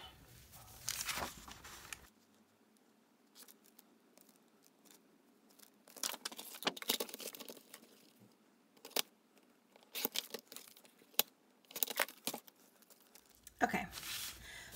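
Scissors cutting paper for a planner: intermittent crisp snips and rustling crinkles in short bursts separated by quiet pauses, close and fairly soft, with no talking.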